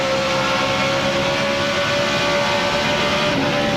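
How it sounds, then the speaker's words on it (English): Rusty Wallace's NASCAR stock car engine screams at high RPM along the back stretch at the 2002 Subway 400, a loud, continuous, steady drone with no breaks. "I love to hear that engine. It's even turning a lot of RPMs on the back stretch."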